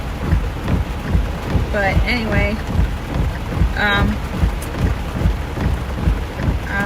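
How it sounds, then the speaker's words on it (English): Steady rain pours down during a Texas–Louisiana storm chase, a dense hiss with low rumbling beneath, while a voice speaks briefly over it. "At least it's raining to put it out."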